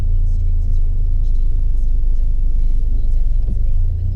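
A learner car's engine rumbling in a low gear while braking and coasting during a driving lesson in Derby, a steady loud low drone heard from inside the cabin without talking.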